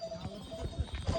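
A horse walks on the Kedarnath pilgrimage trail with a few close, uneven hoof clops, while a person talks quietly over them.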